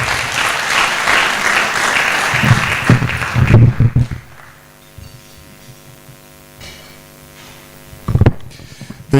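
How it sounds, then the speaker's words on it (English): Audience applause at a stakeholder breakfast meeting, a loud burst of clapping for about four seconds that drops to a low mains hum, with a brief second spurt near the end. "Let's give another round of applause for our peers."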